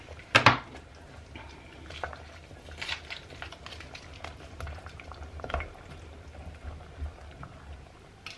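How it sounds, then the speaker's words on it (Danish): Potato and leek soup simmers in a lidded pot, a steady bubbling and soft rumble close by, opening with a sharp clank of the lid and a few light utensil knocks. "Så skal der bare låg på, og så skal det have lov til at koge"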